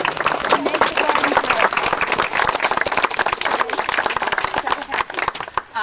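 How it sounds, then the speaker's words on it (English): A crowd at a garden ceremony gives lively, sustained applause for the garden volunteers, dense clapping with crowd voices and cheers running through it. "A round of applause for all these people who work to make the garden"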